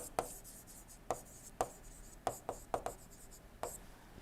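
Handwriting during an engineering lecture on two-stroke and four-stroke engines: a series of short, crisp pen-on-surface strokes in an irregular rhythm, close and fairly quiet, with no talking.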